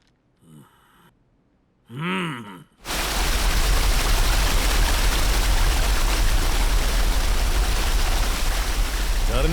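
Waterfall splashing in a steady, loud, broadband roar that runs without a break after a few brief voice sounds at the start.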